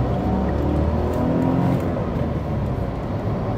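Rear-mounted engine of a Smart ForFour W453 city car, a steady low engine hum and drone heard continuously from inside the car with no talk over it.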